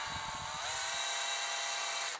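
A power drill whines as it starts a hole in a metal chassis for a tube phono preamp, a brief steady tonal buzz that rises in pitch after a short start and cuts off abruptly.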